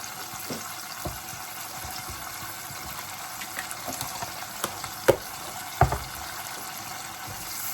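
A spoon stirs tomato paste into a curry of beef or chicken in a pan, giving a steady soft sizzle with scraping and a few louder clacks near the end, close by and with no talk.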